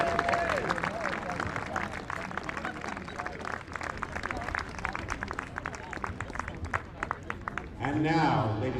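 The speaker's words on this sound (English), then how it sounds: "Give them a huge round of applause." A crowd at a Cape Cod League baseball game between the Hyannis Harbor Hawks and Falmouth Commodores applauds as players take the field, dense clapping throughout with a public-address voice coming in near the end.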